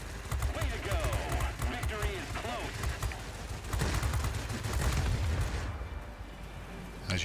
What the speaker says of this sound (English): I shoot down both heavies that are in the sector first